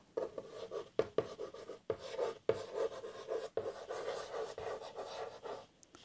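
Chalk or marker scratching across a classroom board as a teacher writes out the capitalised word Olympics, a run of short scraping strokes with brief pauses between letters, close and clear with no talking.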